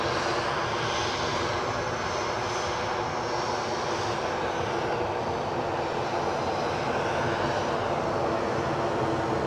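Airliner in Spotty livery at Edinburgh Airport, a continuous broadband engine roar of steady loudness throughout, moderately close with no talk.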